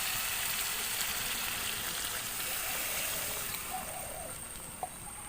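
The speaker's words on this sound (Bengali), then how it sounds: "এবার আমি মাংসের মধ্যে পরিমাণ মতো জল দিয়ে দেব।" Water poured into Kashmiri chicken frying in a pan, a loud hissing sizzle that eases into a softer bubbling with a few small pops near the end.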